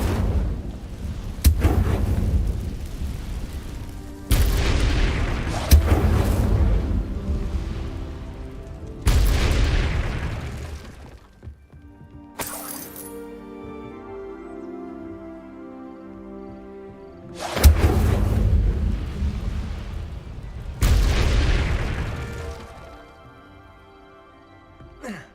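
Booming fire-spell blasts from Hogwarts Legacy, a handful of heavy, rumbling bursts with decaying tails separated by quieter gaps, one followed by a ringing magical shimmer; loud and close.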